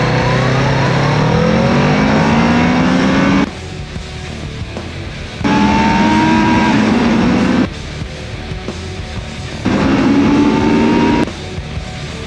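A Kawasaki Z650 RS motorcycle accelerates hard toward 100 kph, engine rising in pitch through three separate pulls with brief quieter gaps at each gear change, loud and close.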